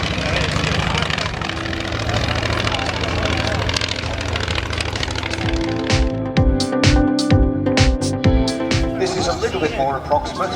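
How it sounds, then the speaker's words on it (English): A nine-cylinder radial aircraft engine at the Shuttleworth airshow roars loud and close, then settles into a throbbing, strongly pulsing run with uneven bursts. "the 9-cylinder radial."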